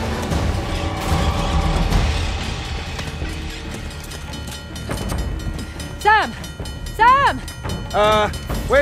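Moving train in the Uncharted The Lost Legacy video game rumbles and clatters along the track, with screeching, squealing tones rising in repeated bursts toward the end.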